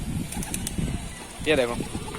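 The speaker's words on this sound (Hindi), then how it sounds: "ये शाम का समय, इसलिए कुछ कबूतर अपने आप उड़ रहे हैं।" Over quiet background talk, a brief soft pigeon coo rises near the end, with faint wing flutters scattered earlier, in the evening.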